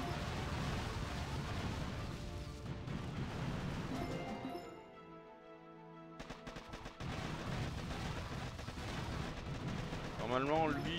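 Bomb explosions and heavy gunfire in Boom Beach, a dense, loud barrage of booming blasts and rattling shots that drops away briefly in the middle before resuming, with a voice speaking over it.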